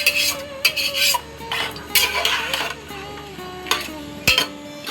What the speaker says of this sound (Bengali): জল দিয়ে একটু নেড়ে দিচ্ছি।